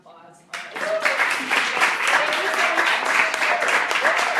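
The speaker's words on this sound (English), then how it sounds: "let's give them a round of applause" Audience applause at an art event, a burst of clapping starting suddenly after a short spoken introduction and continuing steadily and fairly loud, with a voice speaking over it.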